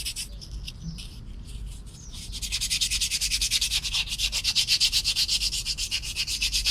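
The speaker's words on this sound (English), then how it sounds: "After sanding it with 100, we go to 120" Rhythmic scratchy rubbing of worn 120-grit sandpaper on a handmade squid-jig lure, brisk back-and-forth strokes, close and steady after a quieter start.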